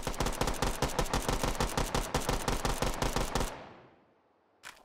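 Shotgun and pistol fire in the VR game Hot Dogs, Horseshoes & Hand Grenades, a fast, evenly spaced string of sharp shots that stops and rings out, then one last isolated shot.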